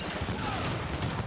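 Rapid gunfire strikes supplies during a video game firefight, a dense, continuous rattle of shots at moderate distance, fairly quiet and steady through the short moment.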